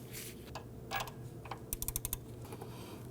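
A swivel head ratchet with a deep socket tightens an alternator bolt on a 2008-2011 Ford Focus, giving quick clusters of quiet clicks near the end, some spaced and some in a fast run.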